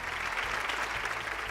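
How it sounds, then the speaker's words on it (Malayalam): A television game show audience applauds in a studio, a dense, even burst of clapping from many hands that holds steady for a short moment. "ഒരു നല്ല കൈയടി കൊടുത്തേ"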